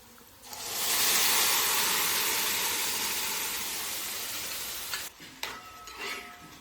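Cooked beef liver tipped into a pan of softened onions sets off a loud, steady sizzle that swells in under a second and holds, then a few clatters and scrapes of stirring near the end.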